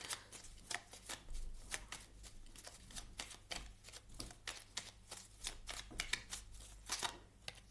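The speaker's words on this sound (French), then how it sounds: "J'étais en train de mélanger votre jeu" A deck of tarot cards being shuffled by hand: rapid, rhythmic riffling flutters, close and fairly quiet, repeating continuously with no voices.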